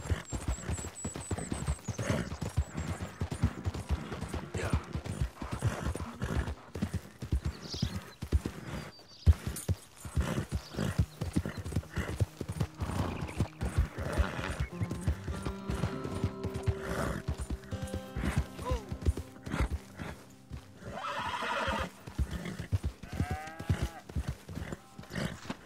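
Horses in Red Dead Redemption 2 clop along steadily for a long stretch, hoofbeats close and continuous, with neighs and whinnies breaking through and other livestock sounds mixed in.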